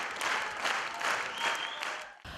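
Audience in a concert hall clapping together in a dense, sustained burst of applause that swells in waves and then cuts off abruptly near the end.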